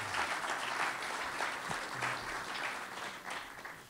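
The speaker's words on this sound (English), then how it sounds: "So let's give our two panelists a big round of applause" A seated audience at a panel discussion on the global financial crisis gives sustained applause for two panelists, an even, moderately loud clapping texture with little variation.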